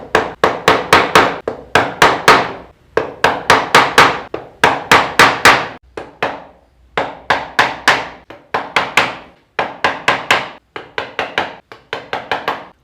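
A chisel, likely struck with a mallet, carving wood along the grain in rustic woodworking, giving a steady run of sharp, close knocks in quick bursts with short pauses between groups, and no talking.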